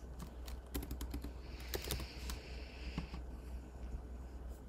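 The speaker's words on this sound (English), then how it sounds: "So I'm gonna go ahead and type in one more patron's name so we can find that." A patron's name is typed on a computer keyboard at a library circulation desk: a fast run of light, close key taps in brief bursts over a steady low hum, with no speech.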